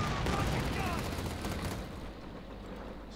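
Heavy MG-34 machine gun fire in Company of Heroes 2, a dense, continuous roar of rapid gunfire and battle noise that stays loud and busy throughout.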